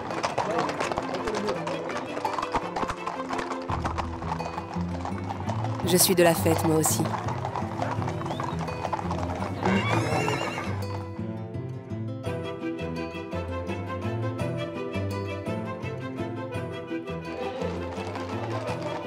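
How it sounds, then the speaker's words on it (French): Horses clip-clopping at a horse blessing in Provence, steady hoof sounds under crowd chatter and a speaking voice, with music playing and a brief louder burst midway. "Spectacle rare, j'assiste à la bénédiction des chevaux à Berlétan."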